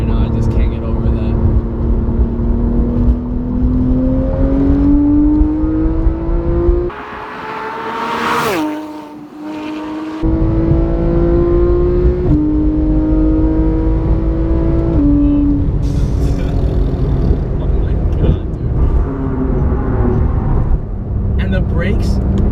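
A Porsche GT3 engine pulls hard through the gears, its loud rising wail climbing steeply, dropping briefly at a shift, then surging again in a close, in-cabin roar.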